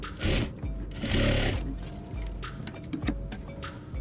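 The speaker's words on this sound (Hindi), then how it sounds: "इस प्रकार से सिलाई करते जाना है।" Sewing machine stitching a blouse, running in several bursts of rapid mechanical clatter with short pauses between, close and fairly loud.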